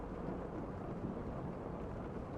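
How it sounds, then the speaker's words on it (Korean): Thunder rumbles under steady, heavy rain as a storm begins, a dense continuous wash of sound throughout with no distinct breaks and no voices. "밖에서 번쩍이는 번개, 천둥 소리와 함께 비가 내리기 시작했다"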